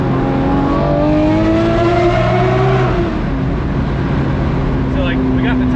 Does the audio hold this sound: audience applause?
no